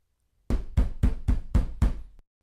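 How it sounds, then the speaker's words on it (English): Six heavy, evenly spaced pounding blows land on a door in quick succession, each loud and booming with a short decay, then silence. "Marion was startled at the sound of pounding on the door"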